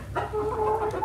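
Bantam Cochin chickens on a farm cluck close by, a few soft, quick clucks in a short burst.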